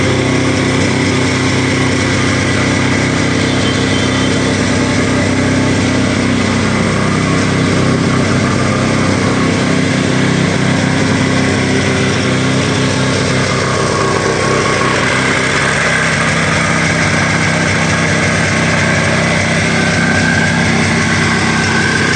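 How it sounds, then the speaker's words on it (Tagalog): A generator runs steadily for the whole stretch, loud and close, its engine drone constant, while protruding steel bars are being cut away at a cleanup site in Barangay 313; no clear cutting bursts stand out from the engine noise. "generator yan para tanggalin yung mga ano yung mga bakal na nakauslit"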